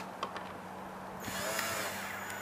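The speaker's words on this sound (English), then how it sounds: "So, start screwing it down." Power drill driving screws into a rebuilt structure, a steady close whine that jumps up in pitch and loudness partway through, with no talking.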